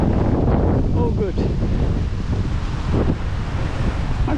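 Strong wind buffeting the microphone at a beach in Mackay, a constant loud roaring rumble throughout, with faint speech-like traces buried underneath.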